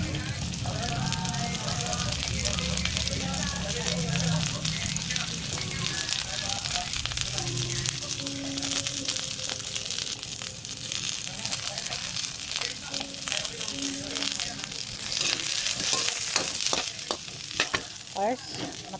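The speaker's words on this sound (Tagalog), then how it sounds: "Sunod natin yung carrot, gigisahin." Carrots sautéing in a hot pan for a sweet and sour tilapia dish, a steady close sizzle with scattered crackles and the occasional stir, with a voice speaking now and then over the frying.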